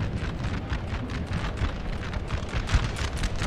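Artillery booms rumble continuously in Napoleon: Total War with the NTW3 mod, a dense, heavy barrage of overlapping distant cannon blasts with one slightly stronger thump near the end.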